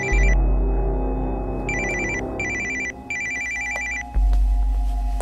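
A telephone rings inside a bag, repeated electronic ring bursts with short pauses, muffled but clear over a steady low background hum, with no talk.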